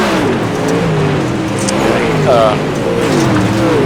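Super Late Model race cars roar around an oval track during a winter racing league, with engines droning and shifting pitch under steady commentary talk.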